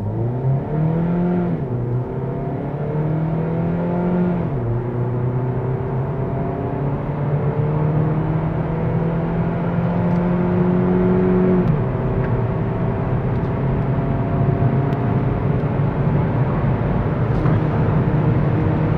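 Kia Niro hybrid on Michelin Pilot Sport tyres accelerating hard from 0 to 100 km/h from inside the cabin, a steady engine drone with rising whine and stepped pitch drops at gear changes, continuous and moderately loud.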